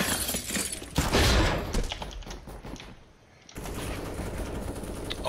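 Loud, dense video game gunfire and a bomb blast crackle in rapid bursts, close and harsh with shattering debris, then briefly drop away before the firing resumes.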